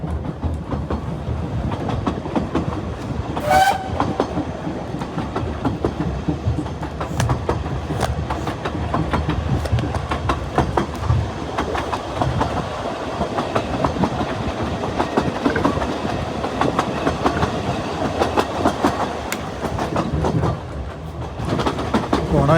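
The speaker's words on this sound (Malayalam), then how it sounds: "എൻ്റെ ഒരു ബക്കറ്റ് ലിസ്റ്റിൽ ഞാൻ സംഭവമായിരുന്നു കേട്ടോ സ്റ്റീം ട്രെയിനിലൊക്കെ പോകണമെന്നുള്ളത്" A steam train ride in Wales: a continuous rumble with rhythmic clickety-clack from the wheels on the rails, heard from inside the carriage, plus a brief higher squeal early on.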